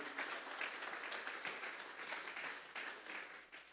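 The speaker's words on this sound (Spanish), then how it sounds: "que le vamos a dar una ofrenda de palmas a Dios en esta tarde." Congregation at a Sunday afternoon church service giving an offering of applause to God, a faint, steady wash of many hands clapping together throughout, heard from a distance.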